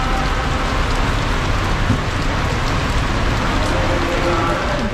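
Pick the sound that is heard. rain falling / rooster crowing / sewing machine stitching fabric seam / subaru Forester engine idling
rain falling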